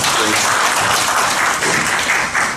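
Steady applause from a lecture audience fills the room, a dense wash of many hands clapping at once, loud and continuous throughout.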